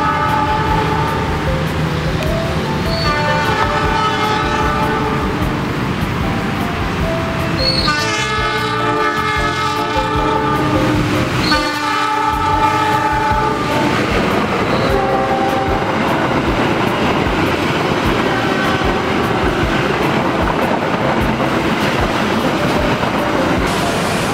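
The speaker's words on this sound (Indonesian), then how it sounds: "Di sini kita bisa merekam kereta dengan pemandangan pepohonan lebat di tengah kota." A train rolls past along a tree-lined stretch of line in the middle of Surabaya, its horn sounding in several sustained blasts over the continuous rumble and clatter of the wagons, loud and near.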